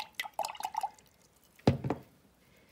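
Water drips from a dropper into watercolor paint pans: a cluster of small bright plinks, a pause, then a louder pair of drips, close and alone.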